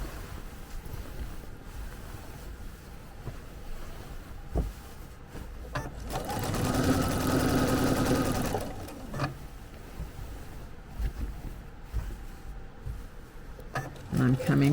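A sewing machine stitches bias tape onto a quilt at a 2.0 stitch length, with a steady mechanical whir swelling for a few seconds in the middle among quieter handling noises and speech.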